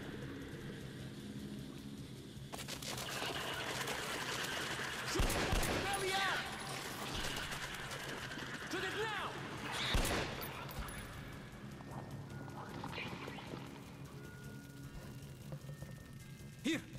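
Gunfire in the Metro first-person shooter game, several bursts of shots and louder impacts rising out of a rumbling background, with someone talking over parts of the action.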